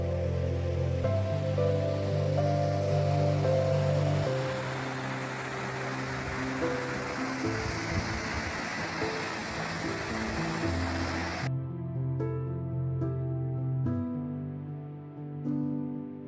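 Browns Falls, a waterfall on Spring Creek: continuous rushing water roars steadily, mixed with a low tonal hum that persists throughout.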